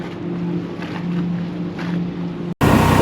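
Boats motoring in and out of a harbor channel at Bimini in the Bahamas, a steady low engine drone mixed with wind and waves, fairly close, with a brief break before a louder rush of wind noise.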